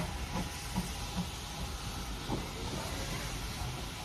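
Steady, broad hissing of steam from a locomotive on the West Somerset Railway fills the scene continuously, with faint rhythmic clanks of the train underneath, fairly quiet and even.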